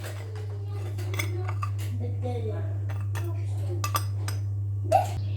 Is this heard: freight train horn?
no